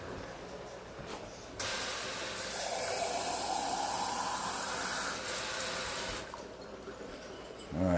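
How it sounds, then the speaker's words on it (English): Water poured from a tap or jug into a pot of mustard greens cooking down on high heat, a steady hissing, splashing stream lasting several seconds before stopping, close and with no talking. "I'm going to put some more water in it."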